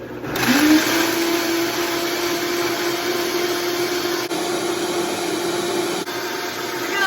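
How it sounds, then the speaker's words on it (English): A high-powered blender roars loudly and steadily at full speed blending cashews with water, its motor whine constant and close with no talking over it. "blend those cashews for about 2 minutes"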